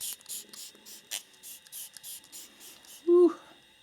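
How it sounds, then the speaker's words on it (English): Angel room spray being misted close by in a series of quick, hissing pump bursts in a steady rhythm, followed by a short vocal sound at the end. "I'm going to spray this in the room before we start the reading."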